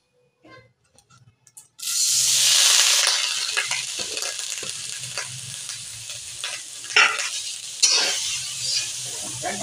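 Date palm jaggery hits a hot wok with a sudden loud sizzle after a few faint taps, then keeps hissing while a spatula scrapes and stirs it in uneven strokes, close and prominent.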